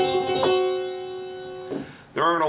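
A piano sounds a tritone interval, a sustained ringing struck chord that fades out, then a second strike near the end, with a brief bit of speech-like sound between them.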